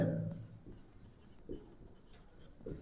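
A marker or chalk writes on a board during an accounts lesson, giving faint intermittent scratching strokes with quiet pauses between them and no speech.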